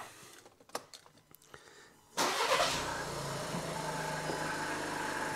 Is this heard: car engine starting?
yes